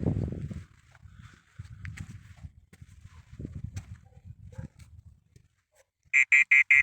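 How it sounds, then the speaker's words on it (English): A burst of rapid electronic beeps sounds near the end, loud and evenly pulsed, after a stretch of quiet rustling and low murmuring. "Can you make this device beep again like you did before?"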